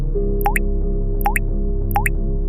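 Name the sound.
faint dripping of thick liquid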